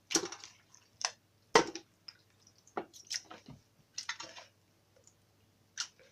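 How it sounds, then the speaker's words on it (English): Raw goat meat drops into a large cooker in wet, squishy bursts of slaps and clicks, irregular and close, with quiet gaps between. "So I'm going to pour my goat meat"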